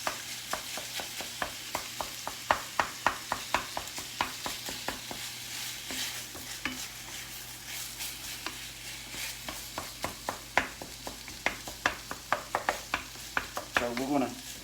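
A wooden spoon chops and stirs ground meat in a pan for a cowboy casserole, making a steady run of close, sharp taps and scrapes over a soft, continuous sizzle.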